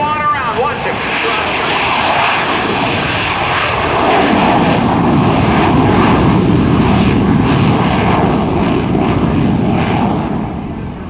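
An F/A-18C Hornet jet flies a touch and go at an NAS Oceana airshow, its engine roaring loud and close and swelling to a peak midway as it powers up and climbs away, with commentary running over it.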